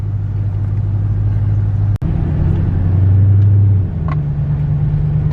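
A Hellcat car engine rumbles at a low, steady idle from inside the cabin, swelling briefly in a rev before settling back to a deep drone, loud and close with no talk.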